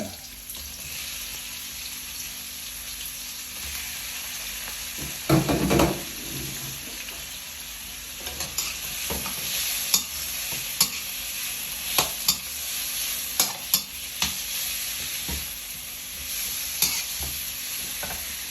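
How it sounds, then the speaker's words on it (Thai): Shrimp and chili stir-fried in a hot pan, a continuous close sizzle with a burst of louder crackle as ingredients go in, followed by scattered scraping taps of the spatula. "ใส่พริกเสร็จใส่กุ้งลงไปเลย"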